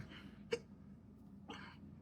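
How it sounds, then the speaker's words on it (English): Two faint, sharp hiccups about a second apart from someone chewing tobacco, quiet and close against a low room hum. "Why am I getting hiccups from chewing tobacco?"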